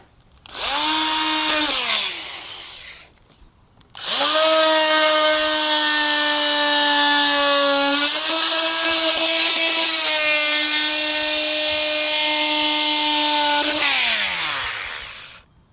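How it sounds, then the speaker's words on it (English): An oscillating multi-tool cuts through wood with a loud, buzzing high-pitched drone, a short first burst followed by a longer steady cut of about ten seconds, close up with no talk. "I have a better option that I have available to me, and this is the oscillating tool"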